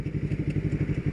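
A motorcycle engine throbs nearby in a steady, rapid low pulsing rumble, loud and close for just over a second, with no talk.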